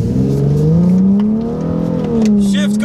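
A BMW E90 engine hums and rises in pitch as it pulls through gears with a paddle-shift gearbox, heard from inside the car as a steady, loud drone with brief shifts in tone.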